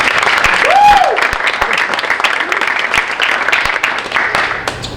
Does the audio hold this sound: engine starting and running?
no